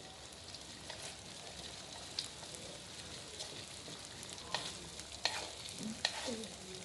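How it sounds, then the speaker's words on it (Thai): Oil bubbles and spits faintly in a pan under a frying egg omelette, a soft, continuous crackle broken by occasional sharper pops and splatters toward the end. "กำลังปุดๆพอดีเลย เดี๋ยวน้ำมันกระเด็นมากเลย"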